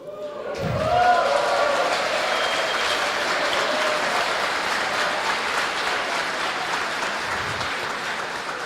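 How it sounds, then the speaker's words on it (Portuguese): Sustained applause from a conference audience, starting abruptly and holding steady and dense for several seconds as people stand to be honoured, with faint voices mixed in. "E eu vou chamar e quero que elas se levantem para a gente aplaudir."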